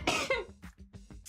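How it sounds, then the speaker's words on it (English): A person coughs hard in a rough burst, then gives several smaller coughs and throat-clearing sounds in an uneven rhythm, close and fairly loud. "sorry for the cough"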